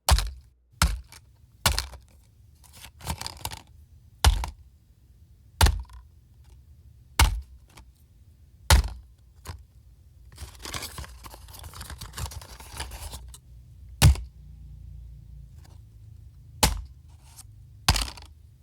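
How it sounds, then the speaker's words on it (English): Raw impact hits captured from a rock tumbler: a series of sharp, close knocks and thuds spaced irregularly about a second apart, with a softer rattling texture in between, no voices. "let's take a listen to the raw sounds I captured with the rock tumbler"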